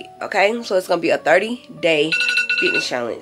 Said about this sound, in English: That's my alarm to tell me to get up